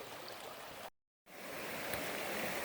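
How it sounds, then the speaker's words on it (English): A small stream on an Appalachian Trail section hike runs as a steady broadband wash, broken by a brief gap of silence. It is close and continuous, with no talking. "Came across this nice little stream here"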